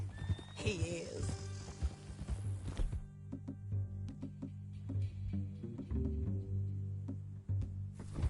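Horse neighing in Red Dead Redemption 2, a loud close whinny near the start followed by snorts and hoof clops on the ground, with someone speaking over it.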